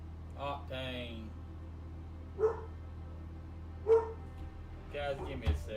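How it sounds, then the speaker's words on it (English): A dog barks three times at dusk, apparently at another dog passing in the street; the short barks are spaced a second or so apart, moderately close, with a person talking around them. "Let me see what he's barking at."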